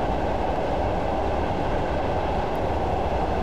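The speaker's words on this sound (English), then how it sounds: "I am just allowing the train to coast at 40 miles per hour." Class 111 diesel multiple unit coasting at 40 mph in Train Simulator 2015 on the Dumfries to Kirkcudbright route: a loud, steady rumbling roll of wheels and carriage noise, continuous with no engine surges.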